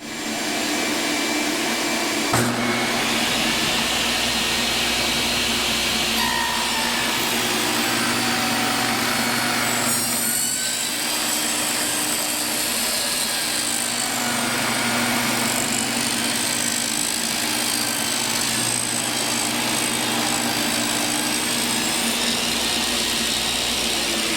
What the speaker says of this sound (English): I'll cut our poplar, and we'll see how that cuts